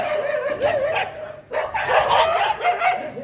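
Several dogs fight at an outdoor family picnic spot in Dharan, with bursts of barking, sharp yips and whimpers that come in two loud flurries separated by a brief lull, fairly close by.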